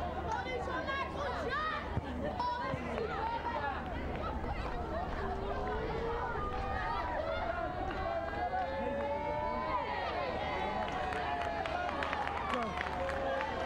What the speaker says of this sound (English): Crowd are getting themselves into this a little bit.